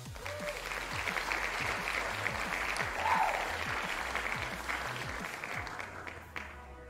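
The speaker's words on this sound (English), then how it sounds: "I will give one more applause for everyone for being here." Steady crowd applause fills the space, many hands clapping continuously at moderate volume, fading slightly toward the end.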